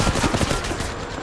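Quick bursts of automatic gunfire in Apex Legends Mobile, close and loud, fading into a rough noisy tail.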